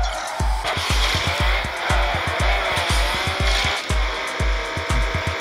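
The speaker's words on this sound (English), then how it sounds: "Brake drift." Car tires squeal and skid through repeated brake drifts in the Ace Racer video game, a steady engine drone broken by a rapid string of sharp, evenly spaced thumps, loud and close with no talk.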